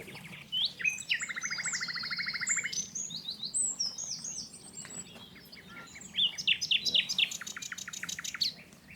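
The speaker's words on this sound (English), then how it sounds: "The power and beauty of the nightingale." A nightingale delivers powerful, varied song in spring woodland: long rapid trills and repeated piercing notes, loud and close over a quiet background.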